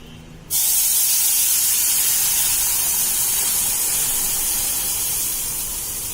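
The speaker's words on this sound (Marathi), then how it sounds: "आता हे दूध टाकताना दूध थंड नाही टाकायचं दूध गरम केलेलं आहे हे बघा आपण दूध टाकतोय" Hot milk poured into pan-roasted semolina (rava) for sheera prasad, a loud, steady hissing sizzle that bursts in suddenly and holds for several seconds, easing off slightly toward the end, with no talking.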